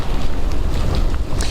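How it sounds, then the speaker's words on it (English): Strong hurricane wind gusts buffeting outdoors during Hurricane Helene in Valdosta, a loud, steady roar with heavy low rumble and wind hitting the microphone, sustained throughout without speech. "experiencing the different wind gusts that have been coming through"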